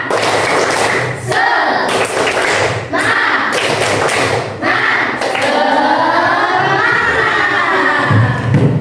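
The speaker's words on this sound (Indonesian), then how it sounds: "Tepuk semangat" Schoolchildren in a classroom perform a rhythmic spirit clap, loud grouped claps and thumps in a patterned beat, joined by the class shouting together toward the end.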